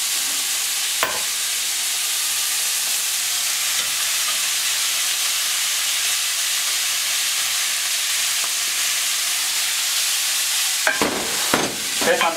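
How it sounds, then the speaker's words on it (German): Minced meat and vegetables frying in a pan for cannelloni filling, a loud continuous close sizzle with occasional scraping stirs at the start and several near the end. "Im Moment angebraten ist, dann können wir schon mal unser Gemüse drauf geben."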